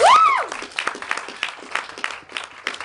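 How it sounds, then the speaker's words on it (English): Comedy show audience applauding themselves, a crowd of claps pattering steadily at moderate loudness after a brief voiced whoop at the start. "Give yourselves a round of applause."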